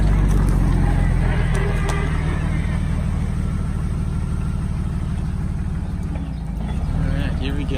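A green Jeep on 488 gears churns uphill with all four tires spinning, its engine droning low and steady up close with no sharp revs, under wind and bursts of voices talking.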